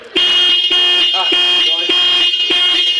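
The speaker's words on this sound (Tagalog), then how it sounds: "So, kapag ground ko yan, itunog yung busina." A loud car horn blares almost continuously in close range, with a steady tone briefly broken by short pauses and a few overlapping chirps.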